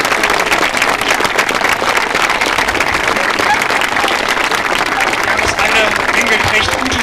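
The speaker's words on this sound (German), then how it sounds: "Mal einen Applaus." An audience applauding at a tournament, a dense, steady wash of clapping that carries on for several seconds without pause, like rain on a surface.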